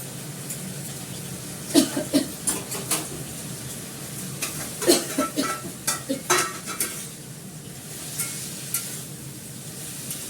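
Fish frying crisply in a hot pan, with a steady background sizzle broken by clusters of sharp metal spatula scrapes and clinks against the pan, close and alone without talk.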